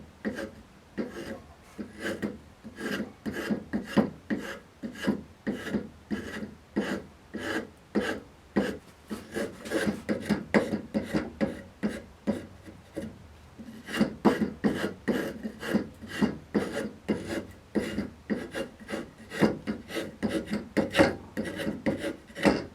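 A scorp carving wood for a Roman bench, with dense rhythmic scraping strokes repeating steadily at close range, pausing briefly before resuming, and no talking.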